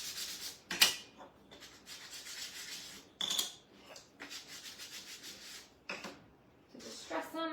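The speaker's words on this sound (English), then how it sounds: "we're just going to take a 220 grit over the top, smooth these out" Wood being smoothed by hand with 220 grit sandpaper, quiet rasping strokes in irregular bursts with short pauses between them, close and fairly soft.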